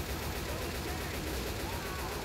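Gunfire aimed at a tank in Left 4 Dead 2, a dense, continuous rattle of shots packed into a brief burst, with talking mixed in.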